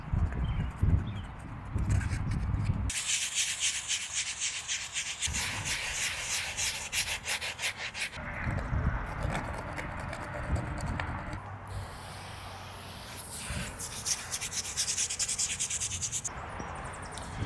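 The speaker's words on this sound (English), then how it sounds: "Just wanna get a really soft plastic scraper here." Soft plastic scraper rubs and scrapes dried poultice off a surface in repeated close strokes, alternating bursts of harsh rasping with duller scraping passes.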